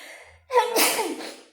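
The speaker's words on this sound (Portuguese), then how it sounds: "acho que eu vou espirrar" One person sneezes once, sharp and close, with a sharp gasping intake just before the burst and a breathy trailing release.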